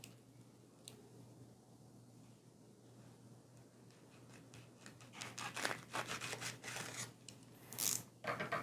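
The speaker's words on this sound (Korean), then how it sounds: "그 다음 칼을 이용해 입자루를 가로로 잘라보도록 합니다" A knife slices crosswise through the spongy leaf stalk of a water hyacinth, giving soft, close squishing and rasping cuts that grow louder in the second half over a quiet, steady hum.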